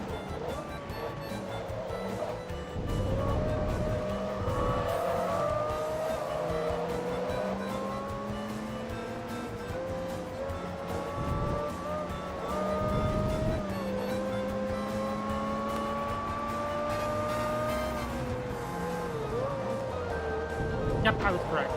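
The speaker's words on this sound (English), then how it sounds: "I think that's a Porsche Carrera GT." A Porsche Carrera GT races in Forza Motorsport 2, its engine note rising and falling through gear changes, with other cars droning alongside and a voice talking over it throughout.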